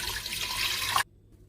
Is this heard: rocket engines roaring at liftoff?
no